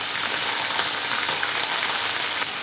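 Chicken liver pieces, washed and readied, hiss and crackle steadily in hot oil in a pan, a loud, even sizzle throughout with no talking.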